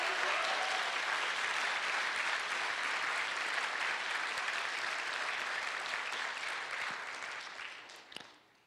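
A lecture audience claps loudly and continuously for several seconds in a dense wash of applause. The clapping thins out and fades near the end.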